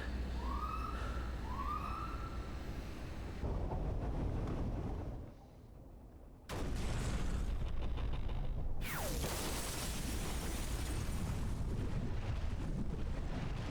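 A loud, sustained rumbling blast from an animated show's explosion, with dense roaring noise, a brief drop partway, then the roar surges back with a sweeping whistle-like tone.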